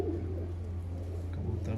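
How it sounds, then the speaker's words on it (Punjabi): Pigeons kept for sale in Sialkot give soft, low cooing over a steady low background hum, continuous and fairly close. "ਕਬੂਤਰ ਦਾ ਸ਼ੌਕ ਕਰੋ ਮਾਸ਼ਾਅੱਲਾ, ਏ ਕਲਾਸ ਕਬੂਤਰ ਹੈ"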